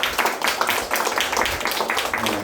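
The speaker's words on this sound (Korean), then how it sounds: "박수 환영합니다" A church congregation at a seminary opening service claps loudly and close to welcome new students, a brisk, dense patter of hands with individual claps standing out, steady throughout.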